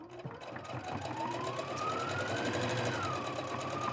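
A sewing machine runs continuously while stitching a quilt block, a steady close mechanical whir with a rising and falling motor tone and no talking.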